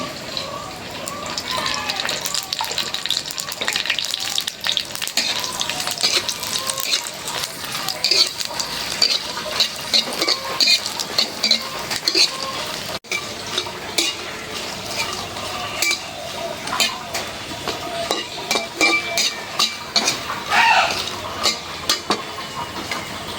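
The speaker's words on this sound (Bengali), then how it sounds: "মরিচগুলো একটু শুকনা কড়াইতে ভাইজে নিলাম এখন একটু তেল দেওয়া" Dry red chillies are stirred and fried in oil in a wok. Repeated scraping and clinking of a utensil against the pan sit over a faint sizzle, with a voice talking intermittently.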